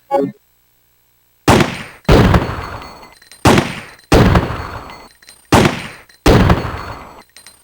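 Handgun shots in Resident Evil 3: Nemesis, six loud, sharp reports fired at a steady pace about a second apart, each with a booming decay, after a short quiet start.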